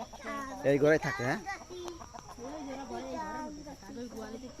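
Chicken (tiger breed hen) clucking in a home coop, a burst of close clucks early on under Bengali talk, with people continuing to speak throughout.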